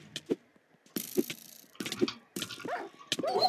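A dog barking in the video game Minecraft, several short yips mixed with clicking, ratcheting gameplay noises in quick irregular bursts.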